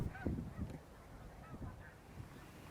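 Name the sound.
geese honking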